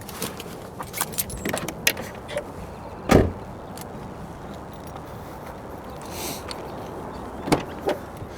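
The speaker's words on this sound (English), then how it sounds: "I did just want to start up my car and get it on camera, see if the squeak is really gone." Car keys jangle in scattered bursts, followed by a solid thump like a door or ignition action and a low mechanical rumble. A car is being started, and its serpentine belt had previously squeaked from not being tight enough.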